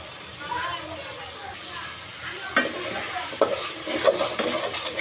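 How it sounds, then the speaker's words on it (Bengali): Ground cumin, chilli powder and other spices being mixed into cauliflower biryani in a pan, with a low frying sizzle and several sharper scraping strokes of the spoon, close and fairly quiet. "এখন মিশিয়ে দিব সব কিছু"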